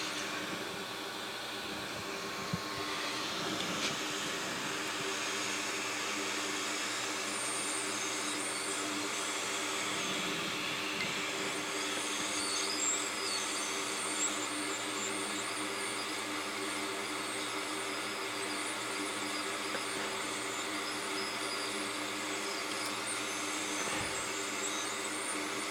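A hot air rework station blows on a MacBook Pro Retina logic board with shorts to ground, giving a steady, unbroken airy hiss and hum that runs throughout with no speech.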